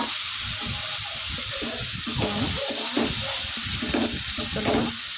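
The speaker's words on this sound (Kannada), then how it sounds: "ಇವಾಗ ಸಪ್ರೇಟ್ ಮಾಡಿದಂಥ ಸೊಪ್ಪು ಮತ್ತು ಬೇಳೆನ ಹಾಕಿ ಇವಾಗ ಒಗ್ಗರಣೆ ಜೊತೆ ಮಿಕ್ಸ್ ಮಾಡಿಕೊಂಡು" Moringa leaves and cooked dal hit a hot tempering of curry leaves in a pan. A loud, steady sizzle and hiss runs throughout, with irregular stirring scrapes and clatter on top.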